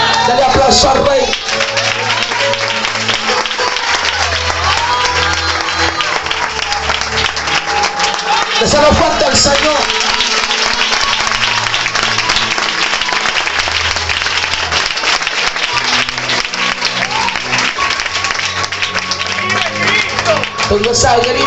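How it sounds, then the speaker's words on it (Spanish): Loud, sustained applause from a church congregation at an evangelistic service, with cheering and a preacher's voice over it throughout. "Dale aplauso al Rey."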